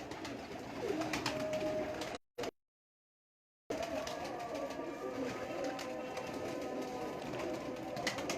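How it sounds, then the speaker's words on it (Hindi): Pet pigeons and other kept birds cooing steadily at close range, with a soft low murmur running through most of the clip, briefly cut by a short silent gap. "आज मैं आपको परिंदों का शौक करवा रहा हूँ।"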